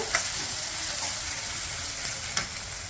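Onion, tomato and green chili sautéing in oil with mustard seeds, a dense, even hiss of frying with a few faint stirring taps.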